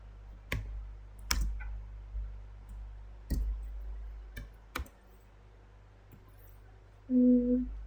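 Sharp, scattered clicks of keys on a computer keyboard, including presses of the enter key, sound close and dry, about half a dozen spaced strikes, followed by a short electronic tone at the end.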